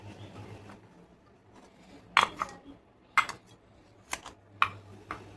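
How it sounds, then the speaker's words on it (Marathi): A knife scrapes and clinks against a steamer plate while freshly steamed idli are lifted out, five short metallic taps and scrapes spread over a few seconds against a quiet kitchen background. "आपण सुरीच्या साहाय्याने इडली ही काढून घेऊ."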